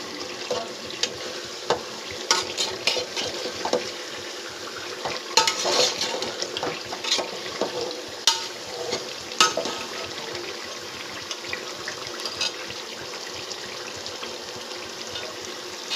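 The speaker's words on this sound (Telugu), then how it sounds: "బాగా మిక్స్ చేసుకుంటున్నాం. ఒకసారి మిక్స్ చేసుకుందాం." Chicken biryani mixture stirred in a frying pan: soft steady sizzle with scattered scraping clicks and clinks of the spoon, close and moderate, no talking.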